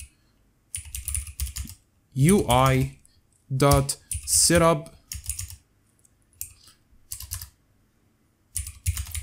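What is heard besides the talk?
typing on a computer keyboard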